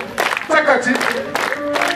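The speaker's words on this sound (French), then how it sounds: "Applaudissons" Short burst of audience clapping at a church celebration, close and fairly loud, mixed with a voice speaking over the crowd.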